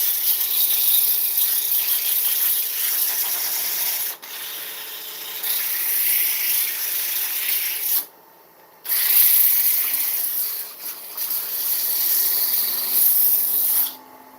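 Abrasive scuffing on the outside of an oak dish spinning on a woodturning lathe produces a steady, bright hissing rub that cuts out for a few pauses and resumes, close and fairly loud with no talking.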